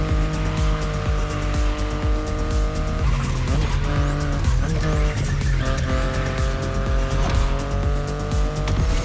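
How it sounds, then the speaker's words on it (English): BMW i8 racing in the video game The Crew Motorfest, a loud steady engine drone with repeated tire squeals and skidding through the middle, constant and close with no talk. "The BMW i8 is a car that stands out from the crowds."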